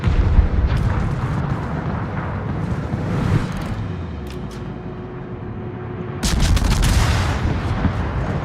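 Battleship main guns firing in World of Warships: heavy booming blasts open the stretch, a lower rumble follows, then another burst of crackling gunfire near the end, all loud and close with no talking.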